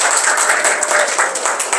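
Congregation applause at a church mission training lecture, a steady dense wash of clapping from a gathered audience throughout, fairly loud and close.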